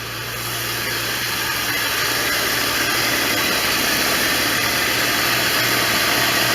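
A 1989 Corvette roadster engine idles steadily and close by, a smooth continuous mechanical hum with a constant low drone and no speech.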